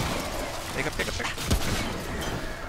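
Gunfire in the video game Remnant, dense overlapping shots and booms in a busy mix, with one louder blast near the middle, under a continuous game soundscape.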